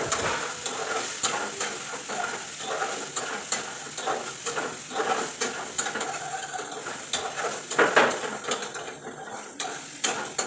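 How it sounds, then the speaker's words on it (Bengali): Steady crackling sizzle of soaked soybean chunks frying in a pan, with a spatula repeatedly scraping and stirring against the metal throughout. "একটু সোয়াবিন ভাজা করে নিচ্ছি এখন"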